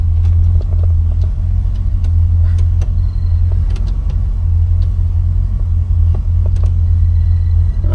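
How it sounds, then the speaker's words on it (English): A heater blower fan runs steadily inside a 1967 Pontiac Bonneville, a constant low droning rumble with faint clicks and rattles scattered over it, heard close and with no talking. "I hear a blower going."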